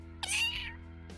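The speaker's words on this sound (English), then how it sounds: "and cat." A cartoon-like cat gives one clear, drawn-out meow over a quiet steady music bed, fading out after about half a second.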